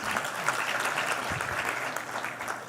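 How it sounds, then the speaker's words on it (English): Conference audience at a business summit claps for a speaker, a dense wash of many hands applauding at moderate level, fairly distant and even throughout. "Again, another round of applause for Mr."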